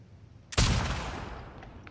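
One heavy gunshot blast in The Last of Us Part II, a sudden loud boom followed by a long decaying rumble and echo, with no voices over it.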